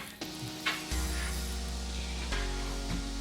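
A teaspoon of pure butter ghee sizzles in a heated curry pot on the stove, a steady soft frying hiss with a few faint clinks and knocks from the pot.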